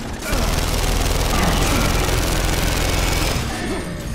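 Continuous heavy gunfire and explosions fill a Gears of War 2 battle, loud and dense without pause, with players' voices talking faintly underneath.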